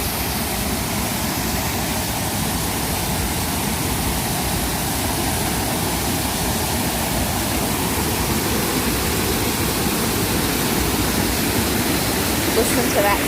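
Water from a waterfall or stream rushes in a continuous, loud, broadband roar that stays steady and close throughout, with no pauses.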